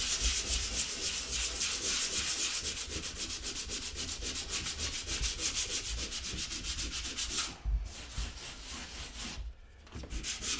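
Coarse sandpaper scrubs filler on a plasterboard wall in steady back-and-forth strokes, close and loud. It runs alone, with two short breaks near the end.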